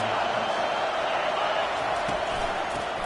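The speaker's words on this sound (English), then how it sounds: "It is getting loud as this crowd tries to help its defense." A loud college football stadium crowd at a South Carolina versus Alabama game roars steadily from a distance, forming a dense, unbroken wash of noise.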